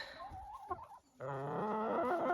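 Hens stepping out of a henhouse in snowy winter cluck and chatter, a busy overlapping flock close by that grows steadier and fuller toward the end after a brief lull.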